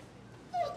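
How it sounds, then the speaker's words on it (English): A dog gives a brief, high-pitched whimper, a single short whine near the end after a quiet moment, close and fairly clear. "Yes, that's my dog."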